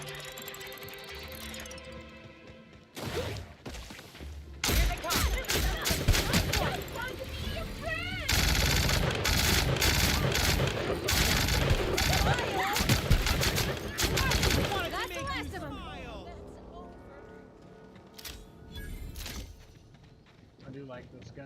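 Rapid bursts of gunfire from a player's weapon in The Outer Worlds, loud and dense for long stretches with mechanical clatter between volleys, under game sounds and some speech.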